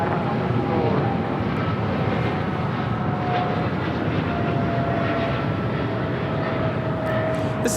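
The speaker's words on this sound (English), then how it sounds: "2811 taking off to Dallas, Fort Worth on a 777-300ER." An American Airlines Boeing 777-300ER takes off at LAX bound for Dallas Fort Worth, its jet engines giving a loud, steady, broadband roar that holds throughout with no talk over it.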